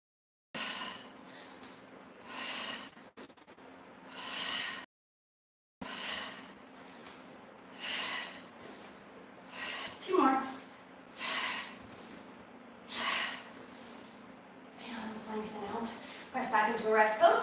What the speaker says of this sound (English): You can tell by my breathing and not talking, the breath is so important.